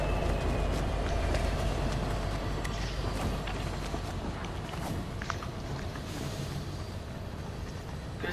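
A moving train in the Fortnite video game, a dense continuous rumble with rattling and clanking that stays loud and steady throughout, with no talk over it.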